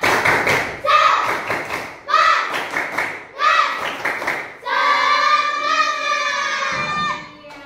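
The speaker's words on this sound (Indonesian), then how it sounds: "Tepuk semangat!" Children in a classroom give a rhythmic clapping cheer after their teacher's prompt, several short bursts of claps and chanted voices followed by a longer sustained group shout, loud and close.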